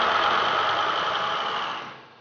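A generator runs under factory testing in a sound-insulated room with special exhaust circuits, giving off a loud, dense, steady roar that tapers off at the end.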